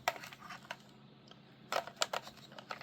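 Plastic parts of a Marvel Legends Kang action figure clicking together, a few small sharp clicks and taps, close and quiet, with no voices.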